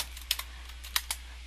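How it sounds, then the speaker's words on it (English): Someone types on a computer keyboard while writing MATLAB code comments, producing a few quiet, crisp key clicks in small clusters over faint background hum. "by typing in a description"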